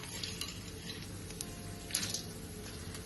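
Roasted chickpeas (daliya) stirred in hot oil in a kadai with peanuts, giving a soft steady sizzle with light scraping and clinks of a spoon against the pan, no voices.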